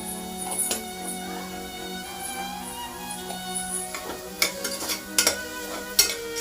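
Onion with turmeric powder cooks in a pan: a faint, low sizzle under a steady hum, broken by sharp metal clinks and scrapes of a utensil stirring, which grow busier toward the end.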